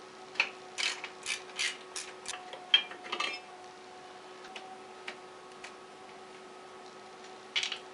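Ratchet wrench with an 8mm socket loosening the brake master cylinder bolt on a Kawasaki Vulcan 1500 motorcycle, giving bursts of quick ticking clicks over a steady faint hum, then near silence with one last burst at the end.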